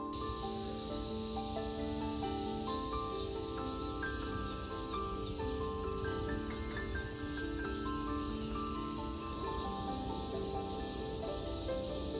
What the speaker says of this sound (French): Il y avait juste le bruit des cigales et de la nature